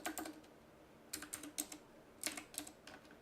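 Keystrokes on a computer keyboard as a search is typed, coming in three short bursts of quick, light clicks separated by pauses, close and clear with no talking.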